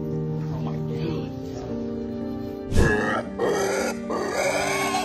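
Grunts from a pig rescued during Hurricane Ian sound alongside a noisy, cluttered background with voices, including a louder burst of snorting grunts partway through.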